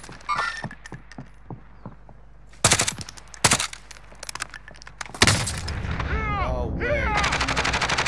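Gunfire in the video game Warzone: a few scattered shots and distant pops, then loud sharp close bursts, and a heavy sustained exchange near the end, while someone speaks briefly over it.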